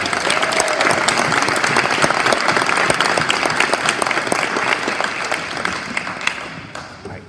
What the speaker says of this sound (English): Please give one round of applause for our three-sport athletes.